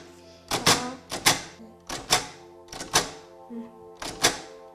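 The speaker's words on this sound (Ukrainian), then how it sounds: "гарно на цій машинці вмію писати, диктанти пишу, твори пишу" A blind girl types a sentence on a braille typewriter at a village school, the machine striking in five sharp, evenly spaced clunks with a ringing rattle after each, close and loud, with no talk.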